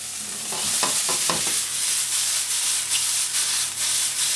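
Oyster mushrooms with Provence herbs and thinly sliced onion tossed in a hot pan, a few quick scraping tosses at first, then a steady bright sizzle carrying on alone.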